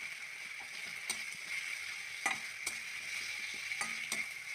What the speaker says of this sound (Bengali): রসুন বাটাটা অল্প ভেজে নিচ্ছি।